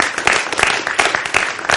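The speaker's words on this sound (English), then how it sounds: "So just another round of applause," A symposium audience claps at the close of a talk on light pollution and sleep, a brief burst of dense, fairly loud applause with irregular bright hand claps.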